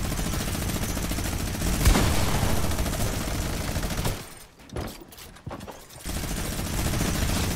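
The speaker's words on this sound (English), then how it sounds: "Yo, this guy has a minigun also." A minigun in a video game fires a long, loud, continuous roar of rapid shots, briefly breaking off before resuming at full intensity.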